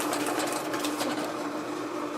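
An Advent 200 plain paper labeler applying labels to plastic-overwrapped wax candles runs with a steady, loud mechanical whir and a faint rhythmic clatter, close by and unbroken.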